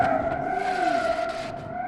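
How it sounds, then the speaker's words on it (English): A crashed car in the BeamNG Drive video game drags its whole left side along the ground, giving a faint, sustained grinding scrape with a steady whining tone and a slowly wavering pitch. "just the whole left side of the car is dragging, and you can hear it, too"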